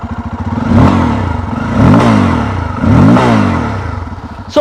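A Bajaj Pulsar N250 motorcycle with a short twin-port exhaust starts, settles into a throbbing idle, and is revved three times in rising and falling swells, loud and close, with no voices.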